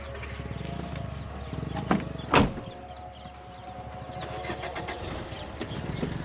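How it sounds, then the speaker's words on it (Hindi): A 2012 Maruti Swift VDI diesel car cranks with a short, sharp burst that catches into a low, steady idle, heard fairly close with no voices. "गाड़ी का इंजन"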